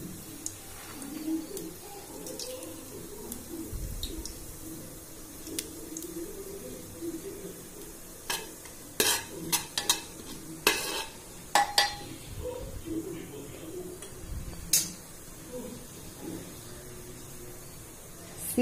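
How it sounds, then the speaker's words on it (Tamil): Cumin seeds splutter in hot oil in a pan while a black chana curry is cooked, giving scattered sharp pops and crackles, some loud and close, over a soft kitchen background with faint clatter. "சீரகம் இப்போ நல்லா பொரிஞ்சு வந்துருச்சு."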